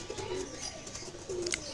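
A pair of pigeons in a loft coo softly at close range. Two low, rolling coos are separated by a brief pause, with faint background noise and no talking.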